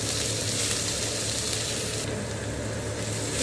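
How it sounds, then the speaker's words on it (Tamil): Onions frying in oil in an iron dosa kadai make a loud, unbroken hissing sizzle close by, steady from start to finish with no speech. "இப்போது வெங்காயத்தை போட்டுக்க போகிறேன்."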